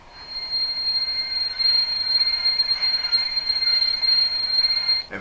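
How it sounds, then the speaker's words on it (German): Brake squeal from a Brawa 01 model steam locomotive with a new-build boiler, Epoch IV, with digital sound: a steady high-pitched metallic screech held for about five seconds, fairly loud and alone. "F22 Bremsengeräusch."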